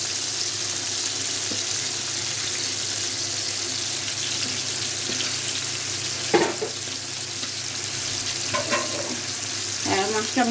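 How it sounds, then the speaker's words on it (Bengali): Tilapia fish frying in a pan, a steady loud hiss of oil held throughout, with a few sharper spits and crackles near the end. "মাছটা ভাজা হোক,"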